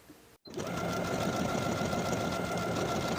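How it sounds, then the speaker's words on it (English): A sewing machine stitching buttonholes on the front placket of a dress, starting after a brief pause and then running in a steady, continuous close mechanical whir with a faint hum. "Now I'll sew the buttonholes in place."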